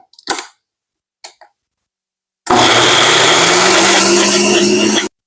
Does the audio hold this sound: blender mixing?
yes